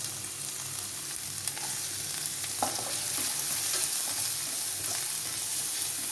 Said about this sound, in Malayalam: മുളക് ഒന്ന് നമുക്ക് സവോള ഇട്ട് കൊടുക്കാം